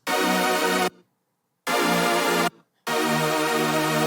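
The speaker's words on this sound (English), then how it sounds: "I have a detuned saw stack that sounds like this." A bright, wide detuned saw stack synth chord built in Harmor plays three sustained hits with short silent gaps between them, loud and buzzy.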